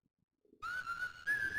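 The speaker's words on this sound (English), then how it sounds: "walking a couple blocks and whistling a particularly annoying tune I had composed" Close, clear whistling of a tune in the Normality video game. A single sustained melodic line follows a few soft clicks, then pauses briefly and continues.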